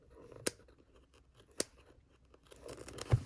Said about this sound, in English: So let me get my favorite pair of scissors for these.